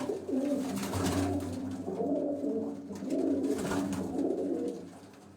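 Pigeons coo in a rooftop cage, close and fairly loud, their soft rolling calls overlapping in two swelling bursts with a short lull between.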